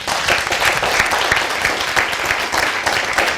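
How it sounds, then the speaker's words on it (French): Studio audience applauding on a Burkina Faso RTB variety broadcast, a steady dense wash of many hands clapping throughout, loud and continuous with no talking over it. "que je vous demande d'applaudir"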